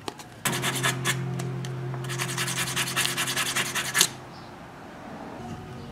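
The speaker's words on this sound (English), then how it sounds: "I'm just gonna sand every bit of this smooth with a piece of sandpaper in my hand." Sandpaper held by hand rubs over a small carved hornet lure in a series of quick, rhythmic scratchy strokes for several seconds, then stops, leaving quiet room tone.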